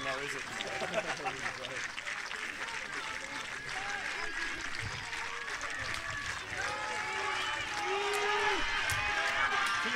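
Rugby crowd cheering on Pingvin in the closing minute of the Swedish championship final, a sustained roar of voices and applause throughout, under a commentator talking.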